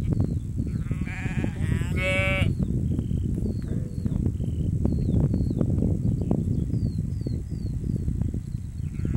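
Sheep grazing on the salt meadows of Mont Saint Michel, with a couple of loud bleats near the start over constant outdoor noise and rustling.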